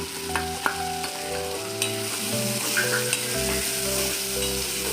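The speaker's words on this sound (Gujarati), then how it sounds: "બરાબર જ્યાં સુધી ડુંગળી ગુલાબી કલરની સતડાઈ ન જાય ત્યાં સુધી એને ચલાવવાની" Finely chopped onion sizzles loudly in a pan with potato and chili paste while a spoon stirs through it, giving a dense, continuous frying hiss broken by a few scraping knocks, with no voices.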